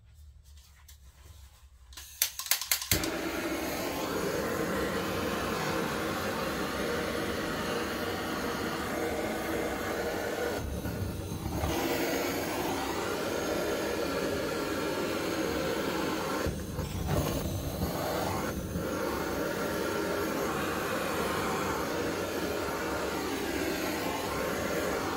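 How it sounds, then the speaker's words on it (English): A blowtorch flame roars in a steady, loud, continuous hiss that lasts throughout after a few clicks at ignition, heating a handmade coaster. "Okay, I'm gonna hit it with a blowtorch."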